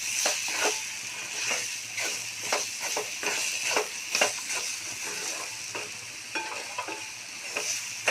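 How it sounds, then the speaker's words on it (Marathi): Spices being stirred together with roasted besan (gram flour) in a pan for chole masala, a soft sizzle under rhythmic scraping strokes of a spoon, close and fairly quiet. "हे सर्व मसाले एकत्र करून घेऊ."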